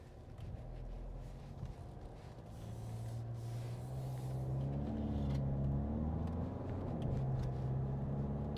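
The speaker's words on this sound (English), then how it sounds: "that's going up a really sort of steep hill, and it did it really well actually" A Skoda Kodiaq Sportline engine pulls steadily up a steep hill, its low drone rising and swelling in pitch as it climbs, with no talk over it.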